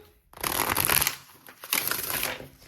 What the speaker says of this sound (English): I'm going to get you some cards from the Green Witch's Oracle deck. Let's shuffle these.